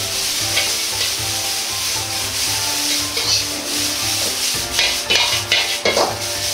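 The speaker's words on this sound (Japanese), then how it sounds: "火を強火にしてもやしと人参をしっかり炒めます。" Bean sprouts and carrots stir-fried over high heat in a wok, with a steady loud sizzle and a continuous scraping, rubbing stir that carries the whole way, with no talk.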